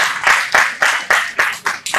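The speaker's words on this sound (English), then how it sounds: "Please give a big applause," An audience at a conference session on 5G use cases gives steady, loud applause, with sharp bursts of clapping landing in a regular rhythm close by.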